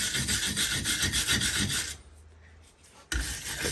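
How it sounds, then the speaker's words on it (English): A wire brush scrubs rapidly back and forth against a metal part, a close, harsh rasping that stops for about a second, then resumes. "So for cleaning, I'm just using a wire brush."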